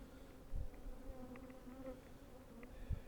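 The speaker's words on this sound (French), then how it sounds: "Il y avait une guêpe encore. Regardez, elle est là." A wasp buzzes around a beehive with a faint, steady insect drone, joined by other buzzing bees and a few soft low thumps nearby.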